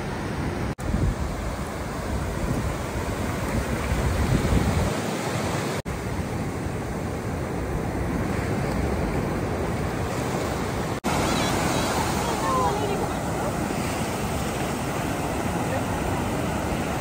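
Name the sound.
sea waves breaking on Golden Beach, Puri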